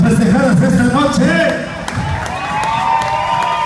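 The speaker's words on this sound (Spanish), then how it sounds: "Un aplauso, damas y caballeros, para las festejadas esta noche" A party crowd at a night celebration for the honorees claps and cheers loudly, with bright whoops and shouts at the start. The noise settles into steadier applause under an amplified voice.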